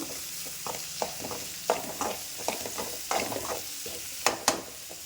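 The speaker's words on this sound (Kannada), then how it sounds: "ಕ್ಯಾರೆಟ್ ಮತ್ತು ಕ್ಯಾಪ್ಸಿಕಮ್ ಹಾಕಿದಾಗ ಫ್ರೈ ಮಾಡ್ಕೊಳ್ಬೇಕಾಗುತ್ತೆ" Carrot and capsicum stir-frying in a pan, a soft continuous sizzle with irregular scrapes and clacks of the spatula as the vegetables are tossed, close up and moderately quiet, no voices.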